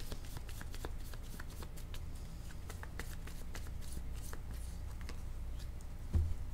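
Oracle cards shuffled and handled in a quiet room, a steady soft papery riffling with light flicks and taps throughout, and one slightly louder knock near the end.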